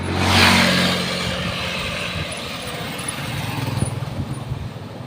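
A motorcycle engine runs nearby with a loud low rumble that swells early on, settles, then pulses unevenly toward the end.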